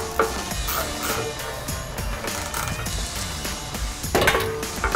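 A puller is tightened on a truck differential during a Carli Pintop lift install, giving steady creaking, ratcheting mechanical strain with irregular clicks and a louder burst near the end, no talking.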